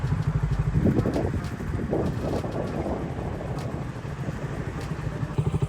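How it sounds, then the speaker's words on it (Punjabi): A motorcycle engine drones steadily and close at the Hola Mohalla gathering at Anandpur Sahib, with heavy wind buffeting the microphone throughout. "ਮੋਟਰਸਾਈਕਲ ਆਪਾਂ ਚੱਕ ਇੱਥੋਂ"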